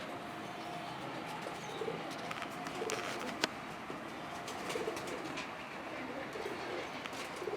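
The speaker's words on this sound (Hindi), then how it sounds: "जी आमिर भाई, कौन से कबूतरों का शौक करवा रहे हैं?" Pigeons of a home-bred flock cooing on a rooftop: soft, steady low coos repeating through the clip over a constant outdoor hiss, with a few faint chirps and one brief sharp tap.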